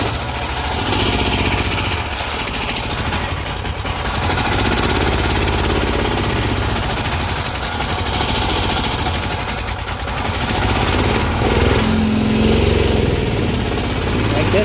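A dune buggy engine runs through a first test ride, its buzzing drone rising and falling as the throttle changes, with wind and rattles mixed in over about fifteen seconds.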